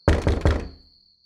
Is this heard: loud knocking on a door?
yes